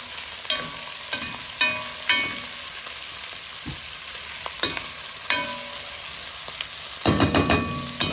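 Fat pops and crackles in a hot frying pan: a steady sizzle runs underneath, with sharp popping bursts at irregular intervals and a denser crackling flurry near the end.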